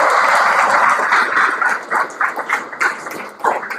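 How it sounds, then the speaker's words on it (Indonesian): An audience at a motivational seminar at Pondok Modern Darul Birri boarding school in Tangerang applauds 105 students, a loud, dense burst of crowd clapping that thins into scattered, uneven claps toward the end. "Tepuk tangan untuk antum 105 orang."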